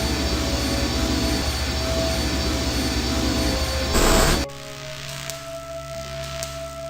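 Machine engine droning in the video game I Have No Mouth And I Must Scream, a loud steady roar that cuts off abruptly partway, leaving a low quieter hum with faint electrical crackles.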